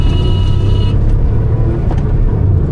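A Maruti Alto K10 car accelerates to overtake on twisty mountain roads near Shimla, its engine giving a steady close rumbling drone with road noise throughout.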